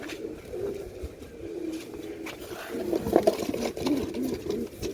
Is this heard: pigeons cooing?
yes